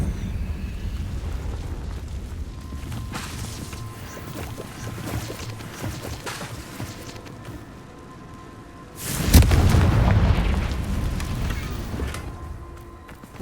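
A Confringo fire-blast spell from Hogwarts Legacy goes off as a sudden loud, near explosive burst that rumbles and slowly fades after a stretch of softer game ambience.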